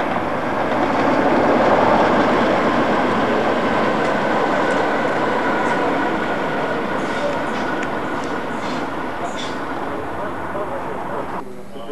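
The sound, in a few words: British Rail Class 60 locomotive at Ripple Lane depot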